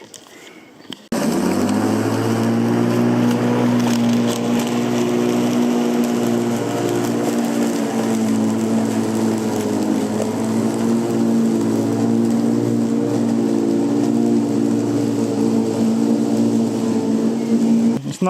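A Ryobi 18V ONE+ cordless lawnmower starts up after a brief quiet moment, then hums steadily and loudly with a constant motor whine as it cuts grass, close by and continuous for the rest of the clip.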